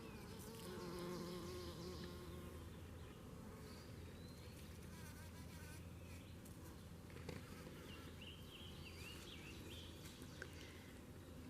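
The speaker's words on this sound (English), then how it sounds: "More happy bumblebees." Bumblebees buzz steadily around a blooming rhododendron shrub full of blossoms, a continuous close drone with wingbeat hum rising and fading over soft outdoor ambience and faint birds.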